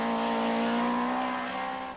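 A Toyota rally car on a stage of the 1980 Mintex Rally, its engine holding a loud, steady high-revving note close by before easing off slightly at the end.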